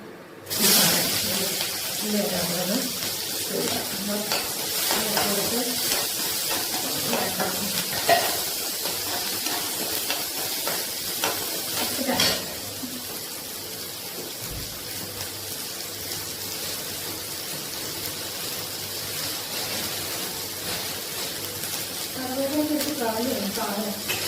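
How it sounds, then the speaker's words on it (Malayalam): Mustard seeds crackle and splutter steadily in hot oil in a pan while a fried poppadom thoran is being cooked, a continuous sizzling hiss under a person talking. "നമ്മൾ ഇനി കടുക് നട്ട് കൊടുക്കുന്നു"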